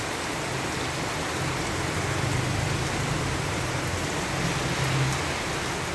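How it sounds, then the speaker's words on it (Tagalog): Steady rain falls through a wet day in Pampanga, Philippines, a continuous, even hiss of moderate loudness heard alone with no one talking. "Maulan na naman, maulan. As in, umuulan na naman."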